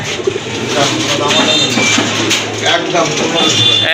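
Pigeons coo throughout at a bustling pigeon sale, several birds calling close by under continuous talk from buyers and sellers.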